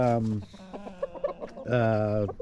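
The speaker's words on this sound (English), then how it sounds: "We can see the little chicks in here" Chickens in a coop that houses young chicks cluck and call loudly nearby. Two long, drawn-out calls frame a series of short, quieter clucks and squawks.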